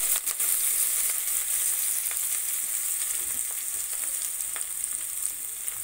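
Chopped tender ivy gourd leaves frying in a hot pan, a loud steady hiss of sizzling oil with small crackles and the occasional scrape of stirring, no voices.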